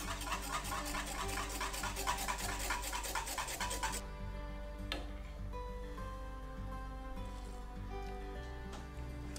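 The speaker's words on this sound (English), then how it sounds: "And we whisk that together." A tom yum paste and seasoning mixture is whisked briskly in a bowl, making fast, rhythmic scraping ticks for about four seconds before stopping and leaving a low, steady background hum.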